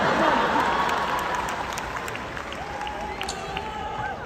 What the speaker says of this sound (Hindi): जो लोग टिकट लेके आए उनके लिए जोरदार तालियां